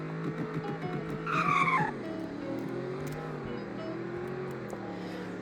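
A sports car launches hard in a 0 to 60 run, engine note climbing through rising gear pulls with a brief tire squeal, heard from a moderate distance with no talk.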